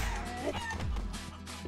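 Chicken in the Guacamelee video game gives a quick burst of clucks, a short, close, slightly squawky series of bird calls over a soft game backdrop.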